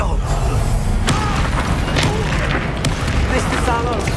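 Confringo explosion spells fire in a Hogwarts Legacy duel, with sharp booming blasts and crackling impacts over dense combat noise and background music, with spoken voices mixed in.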